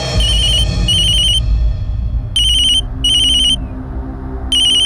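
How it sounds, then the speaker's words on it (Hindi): Loud electronic telephone ringing comes in repeated bursts over a low background hum, part of a Hindi audio drama scene, with no talking during the rings. "फिर अगली ही शाम मुझे बाबा जी का फोन आया"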